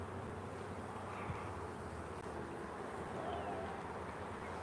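Honeybees buzz steadily throughout a live backyard hive inspection, a dense close hum filling the clip with no talk.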